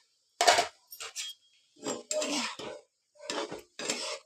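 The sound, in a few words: stirring vegetables in a pot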